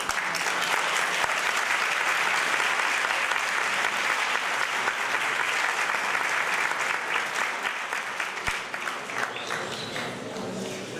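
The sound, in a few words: audience applause at a conference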